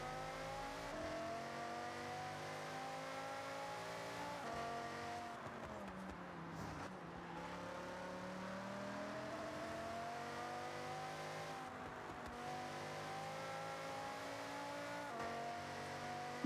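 A car engine in the Forza Horizon racing game holds steady high revs against the rev limiter, a buzzing harmonic drone with a few brief dips and rises, continuous and alone without speech.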